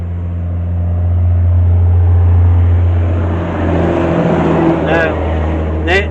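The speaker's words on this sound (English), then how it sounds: "Here comes another tractor trailer." A tractor trailer drives past on a road, a loud low engine drone that swells and fades over several seconds. Quieter vehicle sounds come near the end.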